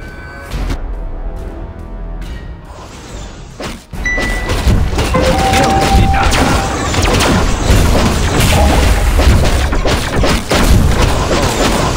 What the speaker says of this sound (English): Turret destroyed.